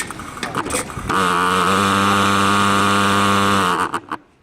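A thermal insect fogger's small engine bursts into life and holds a loud, steady buzzing drone for a few seconds before cutting out abruptly.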